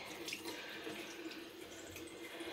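Running tap water rushing steadily while a makeup beauty blender sponge is washed under it in a sink, faint and continuous with no talk.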